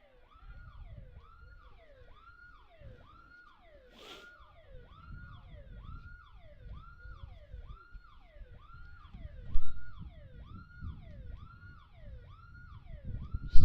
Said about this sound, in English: Still investigating the siren here.